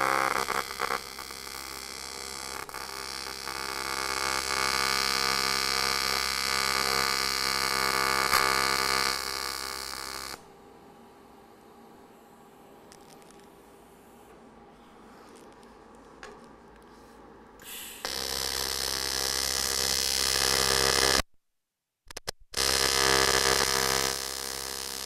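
A TIG welder running fusion welds on aluminum gives off a steady high electrical buzz and hum, cutting out partway, resuming, then pausing briefly before starting again.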